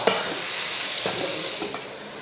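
Four kilos of chopped tomatoes with salt and turmeric are stirred in a frying pan, a few soft scraping strokes over a steady low sizzle.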